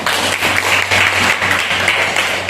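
An audience in an Indonesian classroom or teacher-training session applauds, with steady dense clapping running through the full stretch.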